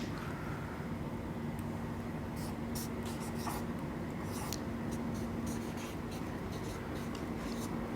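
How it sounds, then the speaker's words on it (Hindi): Marker or chalk scratching out an English grammar example on a board, a string of quick strokes over a constant droning background hum, fairly close. "दूसरा एग्जाम्पल लिखता हूँ।"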